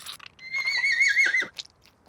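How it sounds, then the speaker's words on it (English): A cartoon horse whinnies in one loud, high, wavering neigh lasting about a second, with short huffs before and after, no talk over it. "Look! The baby horse is crowning!"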